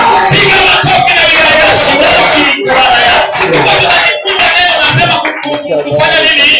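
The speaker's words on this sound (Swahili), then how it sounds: "Piga makofi" A church congregation at a sermon cheers and claps loudly, the dense crowd noise of applause and shouts filling the whole stretch with brief dips, voices mixed in.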